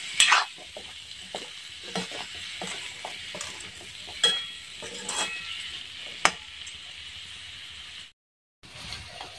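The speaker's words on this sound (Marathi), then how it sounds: "छान असं मिक्स करून घ्यायचं आहे" Bottle gourd (lauki) sabji being stirred in a hot pan, a steady sizzle under repeated scraping strokes of a spoon, with a few sharper clanks and a brief silent gap near the end.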